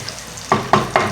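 Fenugreek seeds and chopped ginger frying in hot oil for a fish curry, a close steady sizzle broken by three sharp stirring scrapes in quick succession.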